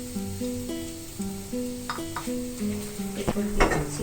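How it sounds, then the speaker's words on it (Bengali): A utensil stirs and scrapes chicken and cashew salad ingredients together in a pan, giving a few soft clatters and a light sizzle under steady background music. "এবার হচ্ছে সবগুলো আইটেম মিক্সিং এর পালা। আমি প্রথমে দিয়ে দিচ্ছি চিকেন"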